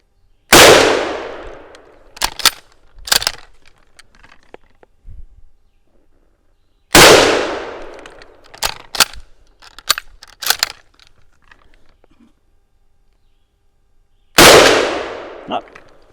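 Three sharp, loud Modello 1891 Carcano rifle shots spaced several seconds apart, each with a fading echo tail and followed by a few clanking rattles of the action.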